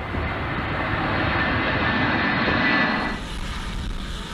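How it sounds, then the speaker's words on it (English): E-3 Sentry aircraft flying a circuit around an airport, its engines giving a loud, steady broadband roar that holds throughout and drops slightly toward the end as it passes. "The aircraft then circles the airport in a defined pattern, also known as a circuit, and repeats the maneuver."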